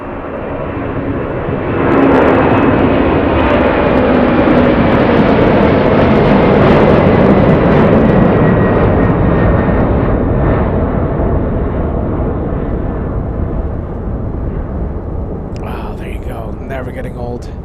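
A Skylease Boeing 747 taking off at Los Angeles International Airport gives a loud, sustained jet roar that swells after a quiet start and holds steady, fading slightly toward the end, with a brief rustle near the close.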